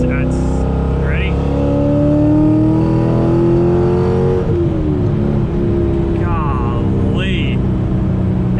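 A C5 Z06 Corvette pulls hard on a back road, its engine note climbing steadily in pitch as it accelerates, loud and close from inside the cabin, with a few brief spoken words over the roar.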